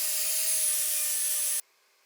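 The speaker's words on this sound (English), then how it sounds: "Now I can slightly sand the outside using the random orbital sander and the medium fine grit" Random orbital sander with medium fine grit sandpaper on the outside of a wooden wine cellar, a steady high whirring buzz that cuts off abruptly after about a second and a half.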